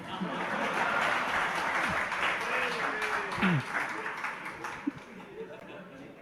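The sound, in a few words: audience clapping loudly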